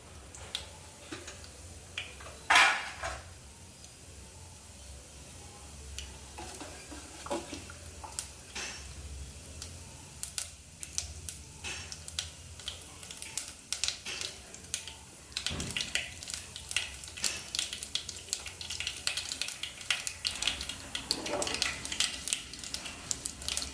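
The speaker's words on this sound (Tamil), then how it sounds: "எண்ணெய் காஞ்சிருச்சு இப்போ உளுந்த போட்டுக்கலாம் கொஞ்சம் கடுகு" Urad dal and mustard seeds fry in hot oil for a Chettinad paruppu rasam, giving scattered sizzling crackles and ticking pops with a few louder bursts, moderately close and with no talk.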